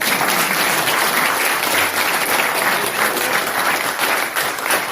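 Dense, steady applause from a large church congregation fills the whole stretch, loud and continuous without pause.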